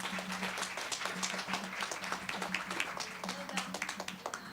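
A conference audience applauds a panel steadily, with dense overlapping claps sustained throughout at moderate volume.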